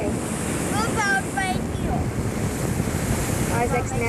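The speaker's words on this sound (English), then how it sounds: "It's really windy." Strong wind roars and buffets the microphone continuously, mixed with rushing water, while faint voices call out briefly beneath it.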